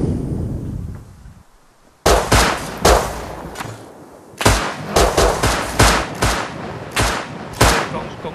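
Shotgun blasts in the survival game Rust, a string of loud, sharp booming shots fired close at irregular intervals roughly half a second to a second apart, after a quieter opening stretch, with no speech over them.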